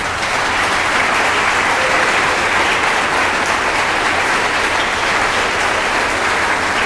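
Audience applause at a high school spring orchestra concert, dense, loud and sustained clapping from a large crowd filling the hall without pause.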